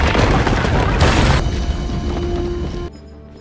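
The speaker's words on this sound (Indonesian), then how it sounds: "monumen Washington harus hancur karena tertabrak oleh pesawat tersebut" A loud cinematic explosion as a plane crashes into the Washington Monument in the 2013 action film Olympus Has Fallen, a heavy booming roar with crashing debris sustained for nearly three seconds before cutting to quieter ambience.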